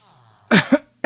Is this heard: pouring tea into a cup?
no